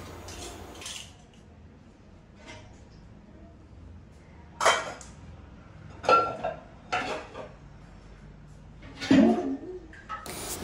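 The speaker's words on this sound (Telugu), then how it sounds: "పొద్దున్నే లేవగానే ఇలా గిన్నెలు సర్దేసుకుంటున్నాను" Kitchen dishes and steel vessels being put away in the morning: scattered sharp clinks and clatters, several distinct knocks spaced a second or two apart over a quiet background, fairly close.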